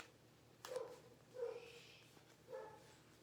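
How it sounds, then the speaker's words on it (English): A dog barks three times from somewhere in the background of a room, faint and separated by pauses of about a second, with no talking over it. "That's my dog barking in the back"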